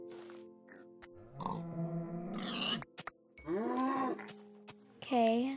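Cows mooing in the Minecraft video game, several drawn-out low moos and grunts in close succession, fairly loud and near, with brief game clicks between them.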